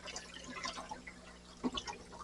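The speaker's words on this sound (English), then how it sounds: "And I'm going to be just adding water." Water poured into a small container holding annual killifish eggs for incubation, giving faint close trickling and dripping with a brief louder splash.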